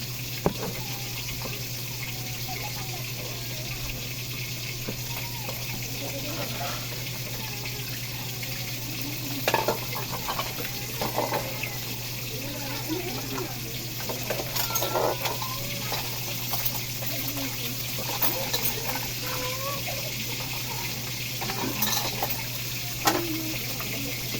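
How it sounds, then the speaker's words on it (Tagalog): Used dishes are washed under a running faucet, with continuous streaming water, intermittent clinks and splashes of plates and utensils, and a steady low hum behind them, no talking. "ginagawa natin mga pinagkainan kanina hugasan na rin natin"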